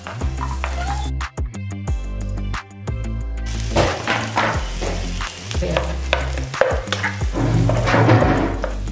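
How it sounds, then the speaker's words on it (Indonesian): Garlic, onion and tomato fry and sizzle steadily in hot oil in a pan, with intermittent stirring clatter, loud and close throughout with no talking. "setelah minyaknya panas, kita masukin bawang putih, bawang bombay,"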